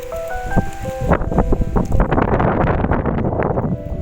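Gusty wind blows beside the stone staircase leading up to Phanom Rung, an ancient Khmer temple. Steady, loud wind buffets the microphone and rustles nearby foliage, with a few brief tonal sounds at the start.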